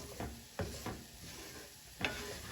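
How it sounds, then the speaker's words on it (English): Flour is stirred into a roux in a pan for loco moco gravy, giving faint scraping stirs and soft clinks at irregular intervals over a low background sizzle. "So we'll slowly mix that around, get that flour in there."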